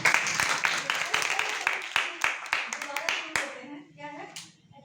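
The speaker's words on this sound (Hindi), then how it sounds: "ताली बजा दे इसके लिए।" A classroom group claps in a quick burst of sharp, uneven hand claps that thins out and stops, with a voice heard at the end.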